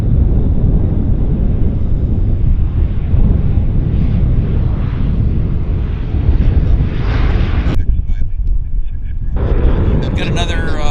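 WestJet airliner on approach to Vancouver airport, a loud, close, continuous rumbling engine roar that holds steady and briefly drops away near the end as a brief clatter of other noise enters.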